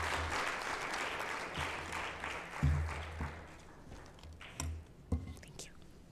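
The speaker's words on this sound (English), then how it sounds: "Yes, another clap as it comes." Audience applause after a speech at a school leadership event on gender equality, a broad wash of clapping that fades over several seconds, with low voices and murmuring underneath.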